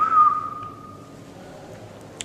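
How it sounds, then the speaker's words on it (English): A patient whistles during a facial nerve examination, testing the orbicularis oris: one clear, fairly loud whistled tone that starts slightly higher, then holds steady and fades out after about a second, leaving quiet room tone. "we are going to test the muscle orbicularis oris by asking the patient to whistle"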